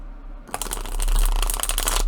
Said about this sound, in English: let's go ahead and shuffle the cards